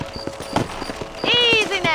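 Horses trotting in the Western game Red Dead Redemption, with steady close clip-clop hoofbeats throughout and a horse whinnying partway, under a man's speech.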